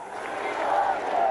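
Crowd of thousands at a Trump election rally, a dense, steady roar of many voices cheering together, loud and continuous for a brief moment with no single voice standing out.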